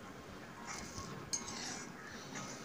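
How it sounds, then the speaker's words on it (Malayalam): A spoon or spatula scrapes and lightly clinks against a pan while an egg dish is gently stirred, soft close scraping with one brief metallic tap. "അപ്പോൾ ഇതേപോലെ ഇളക്കി കൊടുക്കുക."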